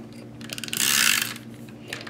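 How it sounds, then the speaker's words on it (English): A Stampin' Up snail adhesive roller is pulled across paper, giving a short ratcheting, crackly tape-dispensing burst in a quiet room, close and alone. "We're going to use some snail adhesive."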